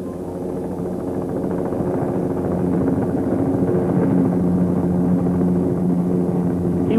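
A helicopter lands on Vivekananda Rock for the memorial's opening, a steady, loud engine drone with a throbbing low rotor tone that swells slightly and holds level, with no speech.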